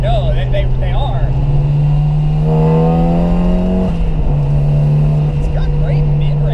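A turbocharged NA Mazda Miata accelerates, its engine note climbing hard as it pulls from inside the cabin, loud and continuous, then dropping briefly after a shift while voices talk over it.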